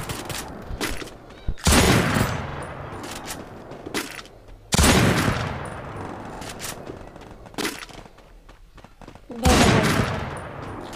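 Bursts of rapid gunfire in three loud volleys, with softer single shots and echoing booms between them, like a game's shooting.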